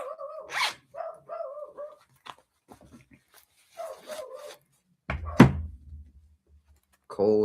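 A dog barks in short, sharp bursts at close range, with a heavy thump partway through and brief pauses between barks.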